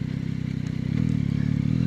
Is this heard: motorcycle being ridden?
yes